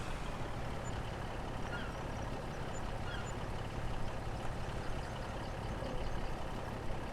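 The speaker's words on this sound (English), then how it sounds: "I think I'll be able to pull it back to the farm with this truck." A truck in a farming video game, pulling a load back to the farm: a steady low engine rumble that runs evenly and fairly loud the whole time, with no talk.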